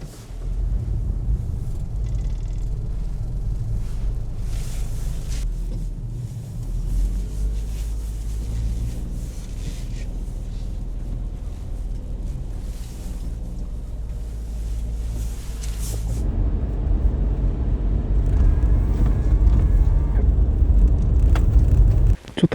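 The Indy 727 kei camper rumbles off on a snowy mountain road in four-wheel drive, a steady low engine and road drone that swells louder toward the end, close and continuous with no talking.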